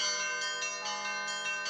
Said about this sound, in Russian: во всех храмах Славянского благочиния в 12 часов дня раздался колокольный звон в память о погибших защитниках Родины